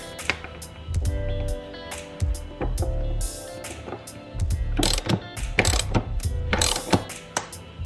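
Factory bolts are ratcheted down to fasten a seat jacker to a Toyota Tacoma floor: close, clicking ratchet strokes in irregular bursts with brief pauses between them.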